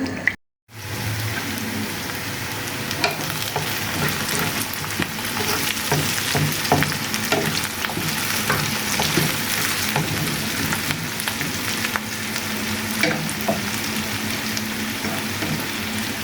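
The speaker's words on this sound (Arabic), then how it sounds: "فكده بنحمر البصل" Onions frying in a pan give a dense, steady sizzle and crackle that runs continuously and evenly loud after a brief silent start, with no voices.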